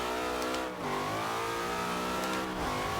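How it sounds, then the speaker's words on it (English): A 1963 Chevrolet Corvette C2 in Forza Horizon 2 accelerates hard in third gear, its engine note climbing steadily and loudly, with a short dip as it shifts, and no talk. "on third gear I hammered the throttle and we definitely got some really good grip"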